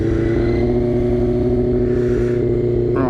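Motorcycle engine idling close by, a loud steady exhaust burble with a strong low rumble and even pulsing throughout, a brief rising rev near the end, with no voices.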